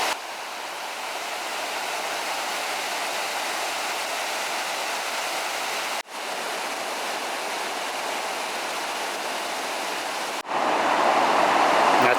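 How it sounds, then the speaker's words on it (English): Water from a full dam pours over a spillway in a steady, loud broadband roar of rushing water, continuous throughout with two brief dips, no voices. "The water's spilling over the spillway there."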